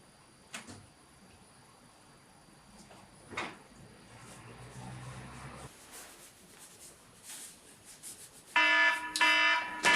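An alarm bursts on near the end, loud and shrill with a rapid repeating pattern, after a stretch of quiet background with occasional knocks and drawer-like thuds.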